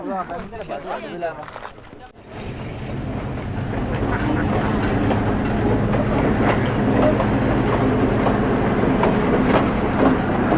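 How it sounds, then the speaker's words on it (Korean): A train rolls through a station in Sri Lanka: after a brief stretch of voices, a loud, close rumble with steady rattling and clatter of the cars builds and holds to the end. "한 5분만 늦었어도 기차 가는 거못볼 뻔했어요"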